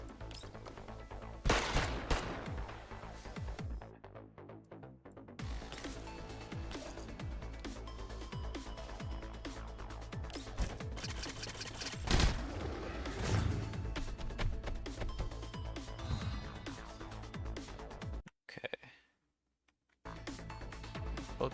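Gunfire in the video game Girls' Frontline 2 comes as loud, dense bursts of shots, mechanical clanks and thuds over game music, running steadily with a couple of brief drops into near silence.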